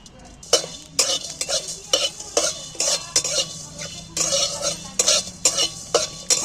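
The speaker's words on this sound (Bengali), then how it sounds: "শুকনো খোলা ভেজে নিচ্ছি" Dry whole spices, including coriander seeds, rattle and scrape as they are dry-roasted in a pan, stirred with repeated sharp metallic clinks in an uneven rhythm, faint sizzle beneath.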